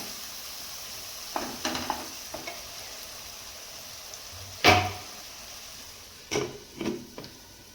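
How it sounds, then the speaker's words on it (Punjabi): Spices roasting in oil in a pan for a vegetable dish, a low steady sizzle with scattered spatula scrapes and a few louder clanks, close and without speech. "ਮਸਾਲਿਆਂ ਨੂੰ ਵੀ ਆਪਾਂ 1-2 ਮਿੰਟ ਭੁੰਨ ਲਈਏ ਜੀ"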